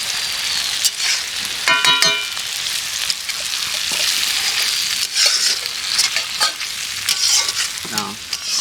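Ginger garlic paste sizzles in a hot pan as a spoon scrapes and stirs it, a steady bright hiss with repeated scraping strokes, close and fairly loud.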